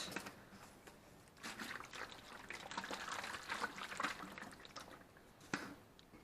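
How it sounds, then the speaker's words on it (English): Water trickles and splashes as a small amount is poured into a container to rinse out the last of the lasagna sauce ingredients, a faint, close, uneven pour lasting several seconds. "I add just a little bit of water and get the very last of it out."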